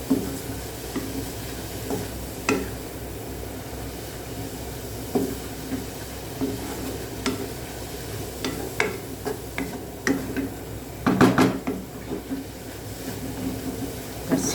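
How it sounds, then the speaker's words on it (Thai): Pork and papaya stir-fried in a pan: soft sizzling under scattered clinks and scrapes of a utensil stirring against the pan, with a brief cluster of louder clatter near the end. "ก็ผัดคนเราให้เข้ากัน"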